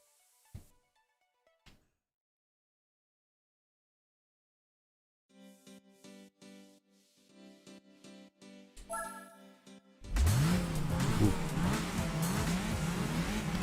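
A car engine in the Gran Turismo 4 racing game, faint tones and clicks first, then a loud, high, buzzing rev that climbs and holds steady for the last few seconds.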